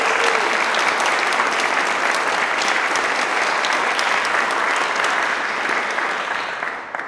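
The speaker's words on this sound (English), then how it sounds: "Let's give them a nice round of applause." An audience at the 2018 Technology Awards in Santa Clarita Valley claps steadily in a dense, loud wash of applause for about seven seconds, thinning slightly at the end.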